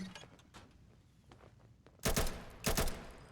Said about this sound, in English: 4 gunshots hitting directly behind you